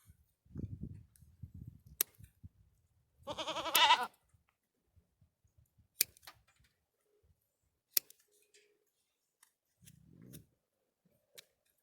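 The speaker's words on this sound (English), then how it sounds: "I will show you this goat here" A farm goat bleats in a couple of short, close cries, among scattered clicks and snips, with long quiet gaps between sounds.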